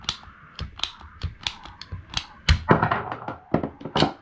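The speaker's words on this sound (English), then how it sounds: "take your handy dandy pipe cutters" Pipe cutters snipping through pipe for a DIY ribbon dispenser, giving a run of sharp, close clicks and snaps from repeated pumping, ending in a louder cluster of crunching cuts.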